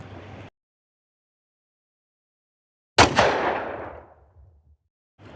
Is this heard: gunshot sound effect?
yes